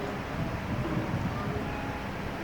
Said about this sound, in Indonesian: Kecepatan angin semakin meningkat dan juga kecepatan turbinnya juga semakin kencang.